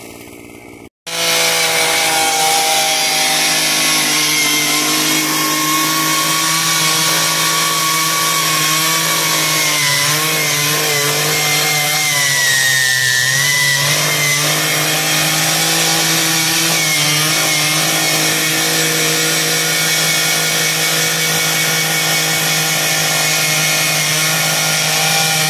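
A Harbor Freight Predator gas-powered earth auger runs steadily at high revs after a sharp start, a loud, continuous two-stroke engine drone with brief wavering as it bores into the ground.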